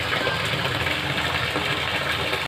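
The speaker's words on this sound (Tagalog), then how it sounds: "Nakakarga pa yan ng tubig." Water pours steadily into a concrete fish pond as a loud, continuous splashing gush, which cuts off abruptly at the end.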